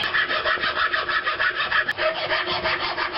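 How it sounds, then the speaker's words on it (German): A file rasps along the edges of new brake pads for a Porsche 944 S2, with rhythmic back-and-forth strokes, close and even, and no voices. "Die Bremsklötze sind nicht gefasst, deswegen breche ich etwas die Kanten."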